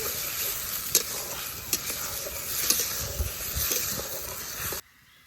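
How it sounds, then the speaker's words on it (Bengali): Spice paste with ground chili, coriander, turmeric, ginger, cumin and salt is stir-fried in a pan in a village kitchen, giving a steady close sizzle with scraping stirs and clinks throughout, stopping abruptly near the end. "মরিচের গুঁড়া ধনিয়ার গুঁড়া স্বাদ মতো লবণ সব কিছু খুব ভালোভাবে কষে নেই"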